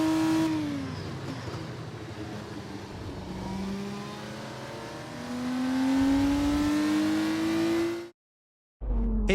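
An F2 race car in the video game F1 24 drives into parc fermé, its engine whining and revving in rising pitch sweeps at close range before cutting off abruptly, followed by a brief thump.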